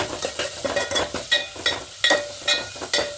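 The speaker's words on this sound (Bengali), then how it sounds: "এখানে আমি লবণের পরিমাণটা দিয়ে দেবো দিয়ে খুব ভালো করে মিশিয়ে নেব" A utensil scrapes and stirs through veg paneer pulao in a pan after salt is added, a steady series of short, close scraping strokes over a soft sizzle.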